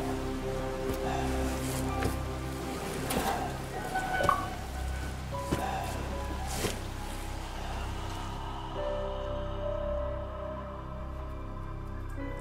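Steady rain in the horror video game Resident Evil 7, a constant, dense wash of falling water with faint scattered drops and low background tones, and no talking.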